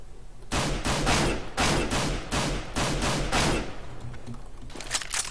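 Rapid bursts of rifle fire ring out in the video game CS:GO, about seven loud, evenly spaced volleys in quick succession, each sharp and dense, followed by quieter trailing shots.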